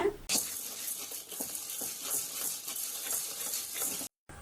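A spoon steadily stirs idli podi ingredients dry-roasting in a pan over a medium flame, giving soft, continuous scraping and rustling with faint crackles up close, then a brief cut to silence near the end.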